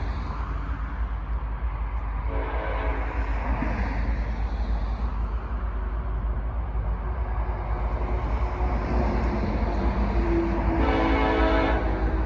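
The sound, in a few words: freight train locomotive passing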